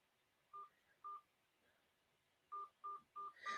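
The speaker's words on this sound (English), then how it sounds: "Please enter your access code followed by the pound or hash sign." Telephone keypad tones punching in an access code for a conference call line: two quick beeps, a pause, then four more in steady succession, fairly faint and clean with no talking.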